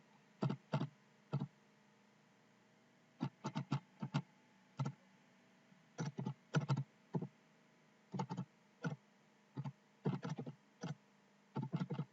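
Keys are tapped on a computer keyboard while pin numbers are entered for an Arduino LED circuit in Tinkercad. The clicks come in short bursts of several taps with quiet gaps between them, close up and clear and with no voices.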